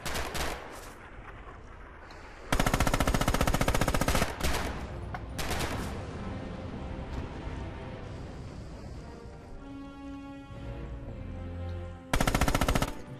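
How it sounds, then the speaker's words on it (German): Machine gun fire in the video game Red Orchestra 2, set at Stalingrad, comes as loud rapid bursts separated by pauses, with continuous distant battle noise in between. "Maschinengewehr!"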